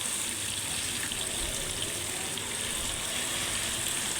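Pieces of fish fry in hot oil over a medium flame, giving a continuous, close, even sizzle that keeps a steady level throughout with no talk.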